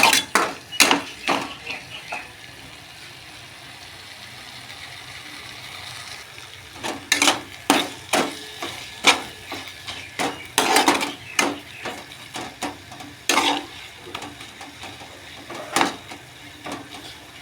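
Metal utensil scraping and clanking in a pan while a rice flour mixture is stirred for a Bengali drumstick-leaf and potato dish, with irregular bursts of clatter separated by quieter stretches of low background hum.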